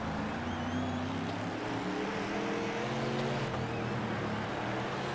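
Race cars roaring around Kern in World of Outlaws 24, a steady dense engine drone with layered harmonic whine running continuously, no talk over it.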